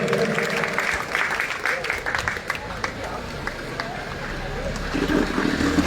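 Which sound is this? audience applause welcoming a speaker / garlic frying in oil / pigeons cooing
audience applause welcoming a speaker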